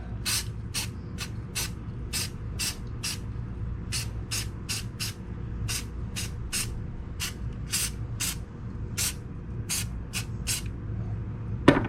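Rust-Oleum Cobalt Blue Metallic spray paint goes onto a 1/25 scale model truck in short, sharp hissing bursts, roughly twenty quick spritzes in an irregular rhythm close by over a low background hum.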